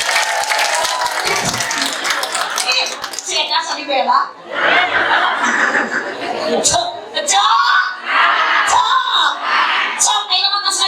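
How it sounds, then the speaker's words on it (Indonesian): An audience at an Islamic religious talk claps and cheers for the women, with bursts of applause and shouts broken by brief pauses, while voices call out over the noise. "Awewe, tepuk tangan untuk awewe."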